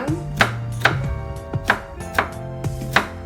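A knife chops a carrot on a cutting board for tofu sushi, giving seven crisp, evenly spaced thuds close up, with no talking.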